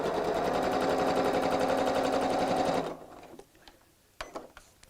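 A sewing machine runs a straight stitch around the top of a tote bag, a loud steady mechanical whirr with rapid needle chatter for about three seconds before stopping abruptly, followed by faint handling noises.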